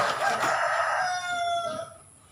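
A rooster crows once at close range, a loud drawn-out call that rises and holds before trailing off, heard on its own at a bird loft.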